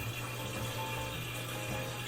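Tap water runs into a sink to rinse out a drinking bottle at home, a steady, close rushing flow with a faint low hum underneath, continuous throughout and with no talking.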